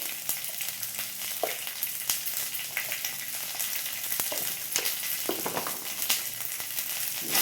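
Spices, including ground turmeric, chilli, cumin and coriander, fry in oil in a pan with a dense, steady crackling sizzle and occasional stirring scrapes, close and without speech.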